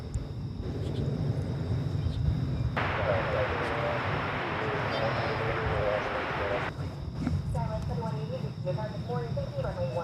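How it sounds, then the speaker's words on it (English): A Cessna Caravan Super Cargomaster propeller plane, a type dating back to the 1980s, drones past at an airport. Its steady engine hum swells to a broad roar in the middle and then fades, with voices murmuring in the background. "So here comes that Super Cargo Master."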